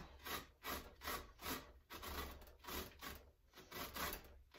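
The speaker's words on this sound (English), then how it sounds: "we don't want to grate the little tip of the zucchini" Zucchini is rubbed down a grater in steady, even strokes, about two per second, giving a close, soft rasping scrape that repeats with no talking.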